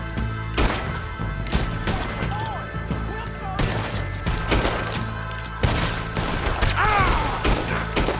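Gunfire in Red Dead Redemption 2, a string of sharp separate shots at irregular intervals with thuds and crashes between them, loud and close over rough ambient game noise.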